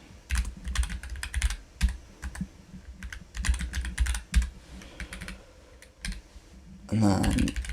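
Rapid, uneven bursts of clicks from a computer keyboard being typed on, loud and close, with short pauses between runs and a brief heavier clatter at the end; no talking.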